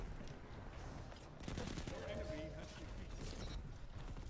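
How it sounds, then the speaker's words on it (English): Black Talon gunfire in a shooter video game, a burst of shots under dense game noise with players talking over it. "We're gonna dodge a Black Talon shot."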